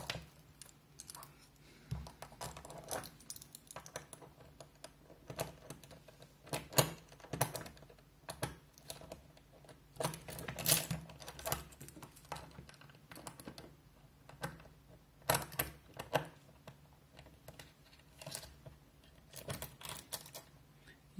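A watch case key tightens the case back of a men's Tissot watch, making faint, close, irregular clicks and small metallic scrapes scattered over a long quiet stretch.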